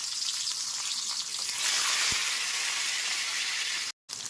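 Two medium tomatoes sizzle steadily in a hot pan, a dense, even frying hiss that swells slightly midway, with no voices over it.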